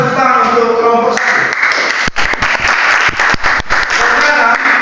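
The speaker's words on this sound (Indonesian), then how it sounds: "silakan tepuk tangan untuk kelompok 1" Applause for a group of maths teacher-training students, starting behind voices and a tonal hum, then becoming a loud, dense wash of clapping with a few sharp individual claps standing out.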